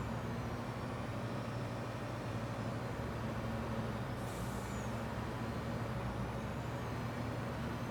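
A loaded grain truck at a farm co-op grain elevator, unloading a second load of oats, idles and rumbles steadily with engine drone throughout, and a brief hiss of air brakes released near the middle.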